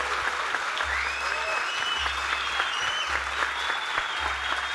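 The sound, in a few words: audience applause at book fair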